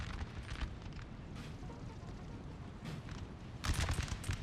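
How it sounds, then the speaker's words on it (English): A building blows up in the video game Napoleon Total War. Booming blasts and crackling debris sound over a constant rumble, and a louder burst comes near the end. "Whoa, it blew up a building."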